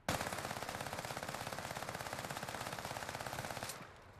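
Automatic fire from an AK-74U in a shooter video game, a loud, fast, steady burst lasting nearly four seconds before cutting off.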